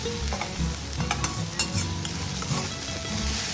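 Masala is sautéed and stirred in a pan until the raw smell cooks off, with a steady close sizzle and repeated scraping, knocking strokes of a spoon against the pan.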